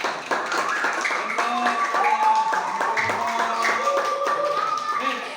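A classroom of students gives a short burst of hand clapping, fairly close and lively, dense for a few seconds before fading, with faint talk mixed in.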